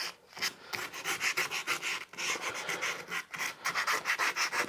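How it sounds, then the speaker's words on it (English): Sandpaper rubs over carved cottonwood bark on a deep-set greenman carving, giving steady scratchy strokes that repeat in rhythmic passes with short breaks, close and loud. "Maybe getting a little carried away with sandpaper here."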